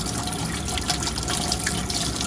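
Hot water runs steadily from a tap supplied by a Garvee electric water heater, a continuous close splashing flow with no pauses and no talking.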